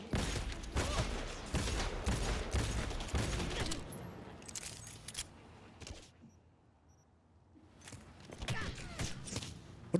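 Enemy gunfire in the video game Cyberpunk 2077, with loud, rapid bursts of shots in the first half, a quieter lull, then more scattered shots near the end.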